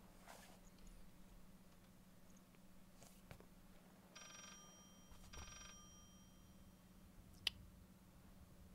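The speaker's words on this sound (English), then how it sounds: "Not for the ring of the phone." A phone rings inside the horror game Layers of Fear, a short burst of bright electronic trilling near the middle, heard over a low steady hum with faint scattered clicks and bumps around it.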